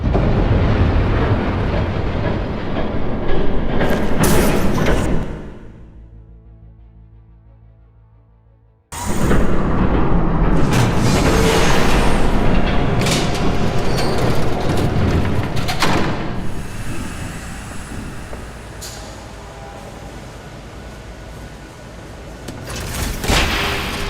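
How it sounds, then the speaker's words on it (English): A train rumbles past in Batman: The Telltale Series, a loud sustained roar with thuds and rattles that cuts out abruptly, then returns as a heavy rushing pass that slowly fades and swells again. "There's a train coming."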